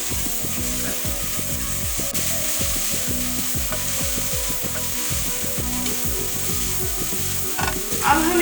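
Chili powder and turmeric are stirred into a frying mixture for kofta aloo curry. A spoon scrapes the pan in quick, regular strokes over a constant close sizzle, with a sharper clatter at the end.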